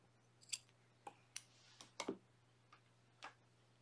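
Scissors snip off leftover crochet yarn tails on a blanket in a quiet room, a handful of soft, sharp clicks spaced irregularly with short pauses between them.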